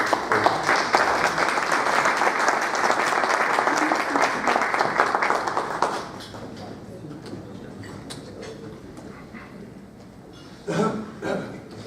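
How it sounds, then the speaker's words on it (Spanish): Audience applause at a public-private partnership conference greets a speaker named Rafael, dense steady clapping for about six seconds before thinning into scattered claps, a brief burst again near the end. "Con un fuerte aplauso le damos la bienvenida al doctor Rafael"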